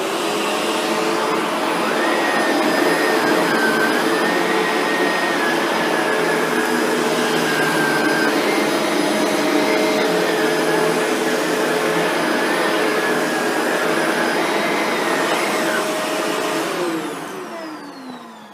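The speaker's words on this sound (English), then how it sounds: "we'll have the vacuum set to low pile carpet" A Shark Rotator NV752 vacuum cleaner runs steadily on low pile carpet, picking up dog hair, with a loud continuous motor whine and airflow roar, shifting slightly in pitch, then winding down near the end.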